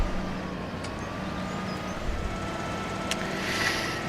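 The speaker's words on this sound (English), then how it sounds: "I'm in a combine, for crying out loud." Combine harvester in Farming Simulator 17 on PS4 drives along with a steady, low engine drone and faint mechanical whine, fairly quiet and continuous with a few brief game sound effects.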